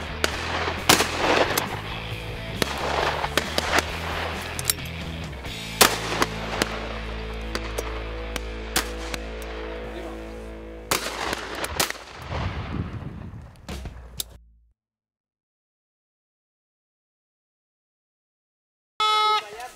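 Shotguns fire during a driven partridge hunt, cracking out repeatedly at varying distances, some loud and close and some distant, for about fourteen seconds. A quiet gap follows, then one last short burst.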